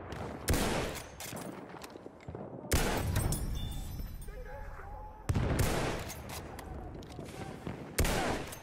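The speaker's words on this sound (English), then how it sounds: "Enemy machine gun!" Enemy machine gun fire in the video game Battlefield 1: heavy bursts of shooting recur every few seconds, each loud and punchy and then easing into a rumbling, battle-filled backdrop.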